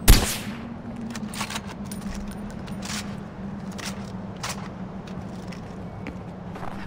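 Gunfire in the video game Far Cry 4: a loud opening burst, then scattered sharp shots over a constant low ambient hum.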